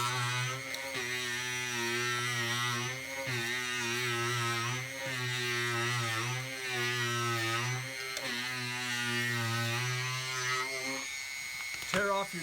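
A power wheel tool grinds leftover glue off a surfboard deck after the decking has been torn away, a steady high whining buzz that dips briefly in pitch every couple of seconds as it bites, ending with a few rough clatters.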